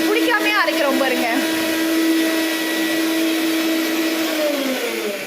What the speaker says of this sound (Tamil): நாங்கள் ஃபாரினர் மிக்ஸி வச்சுருக்கோம். பிடிக்காமே அரைக்கிறோம் பாருங்க.